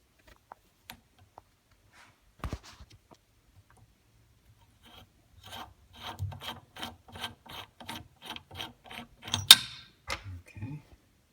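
A bolt is unscrewed from an old steel part with a hand tool during rivet nut installation, a quiet series of about a dozen evenly spaced ratcheting clicks after a few scattered knocks.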